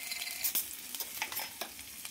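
Garlic, mustard seeds and cumin frying in oil in a pan for garlicky okra, a faint, close crackle with scattered small pops and a few light stirring knocks.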